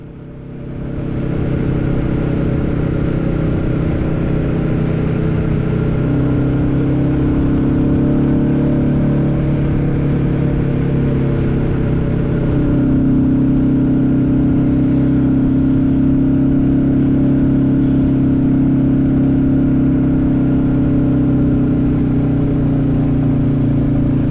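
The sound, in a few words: Royal Enfield motorcycle engine revving on a big uphill climb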